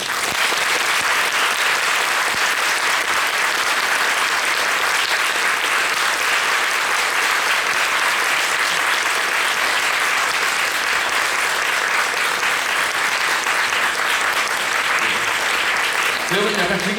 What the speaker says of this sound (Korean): 이제 박수 소리를 들으면서 이렇게 막 손도 흔들